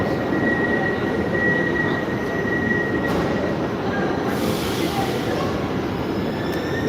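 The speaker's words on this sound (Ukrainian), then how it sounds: "Так, це Варшавське метро." Inside a newer Warsaw metro carriage bought from Czechia in 2023, a steady loud rumble of the running train with a faint whining tone and occasional rail squeal, continuous throughout.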